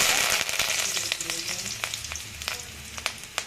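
Cumin, urad dal, chana dal and curry leaves frying in hot oil over a low flame, a close, steady sizzle with sharp crackles and pops scattered throughout, loudest at the start, and no voices.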